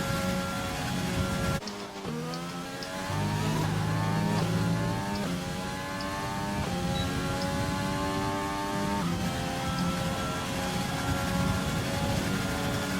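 An F1 race car engine on an onboard lap in the F1 2020 video game, screaming loudly and steadily with sharp upshifts and downshifts as revs climb and fall through corners, with no talk.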